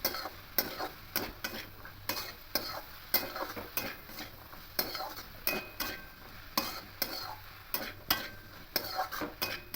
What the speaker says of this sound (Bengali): একটু কাঁচা পোস্ত দিয়ে দেবো যেটাকে খুব ভালো করে ভাবে নেড়ে নেবো